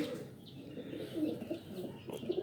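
Home-bred Siah pigeons coo softly at close range, with low rolling calls repeating over faint background noise and no talking.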